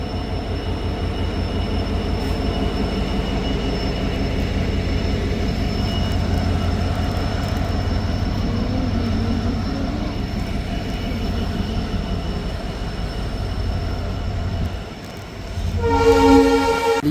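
Yal Devi passenger train running into Kilinochchi railway station in Sri Lanka, heard from aboard: a steady loud rumble of wheels and carriages, then a brief dip and a short horn-like tone near the end.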